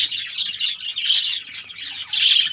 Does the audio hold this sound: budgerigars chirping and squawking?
yes